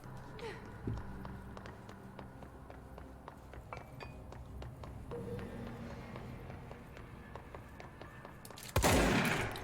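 Gunfire in the video game Control: scattered sharp shots crack over a busy game soundscape, ending in a loud burst of fire near the end.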